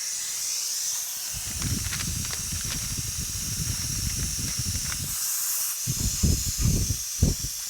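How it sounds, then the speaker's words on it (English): A pneumatic mini polisher with a faulty adjusting valve gives off a constant close hiss of escaping air, with rough buffing and rubbing noises breaking in over it during work on the inside of a 1950 Chevy truck door. "something's wrong with the adjusting valve on this thing. It's spitting air"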